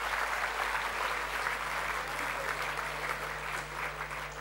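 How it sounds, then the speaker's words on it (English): A dinner audience claps for an announced winner at an awards evening, dense and steady applause from a sizeable crowd, heard at a distance over a low constant hum for the whole stretch. "Give him a round of applause."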